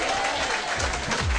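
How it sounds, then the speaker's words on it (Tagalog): Applause from an audience at a Filipino AIM Global business opportunity seminar, a dense, steady burst of many hands clapping together, close and loud, filling the whole short moment with no talk over it. "Palakpak ng bayaman!"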